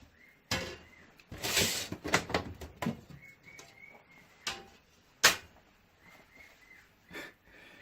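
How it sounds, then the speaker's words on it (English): A pet bird gives soft, repeated whistles and calls in the background indoors, mixed with louder clunks and knocks of glass doors and household handling nearby. "You can hear that in the background, that whistling. That's my bird"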